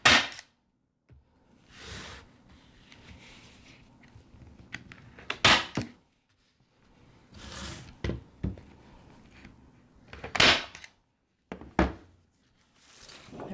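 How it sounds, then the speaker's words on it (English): A staple gun driving staples into salvaged picket fence wood: several sharp, close snaps and thunks at irregular intervals, some in quick pairs, with quiet pauses between them and no voices. "you're just gonna take your staple gun"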